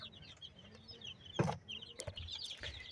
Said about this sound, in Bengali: এখানে 11টি মুরগির বাচ্চা আছে